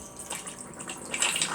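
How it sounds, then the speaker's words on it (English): A motorhome toilet flushing, a short steady gush of running water that swells slightly toward the end, close and moderately loud. "Here's the toilet flushing."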